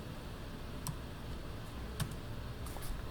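Computer keyboard typing, a few soft scattered keystrokes heard faintly over a steady room hiss, with no speech.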